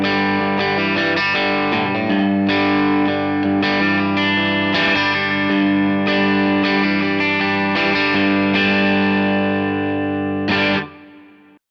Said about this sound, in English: So it's just the amp with the dynamic plate reverb.